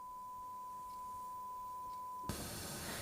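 A steady 1 kHz sine test tone from a signal generator holds one pitch for about two seconds alone, then cuts off abruptly into a burst of broadband noise.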